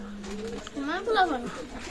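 Pakistani teddy pigeons give a short run of low, rolling coos close by, with a voice speaking alongside.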